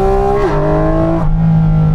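A Porsche 911 GT3 or GT4 RS engine revs high on a race track, a loud, sustained tonal howl that shifts pitch downward twice, as at gear changes, with no talk.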